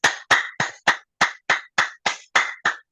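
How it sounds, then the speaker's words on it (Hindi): Hand clapping during an acupressure exercise: ten crisp, loud, evenly spaced claps in a steady rhythm, close by, with silence between them and no talking. "ताली बजाएं"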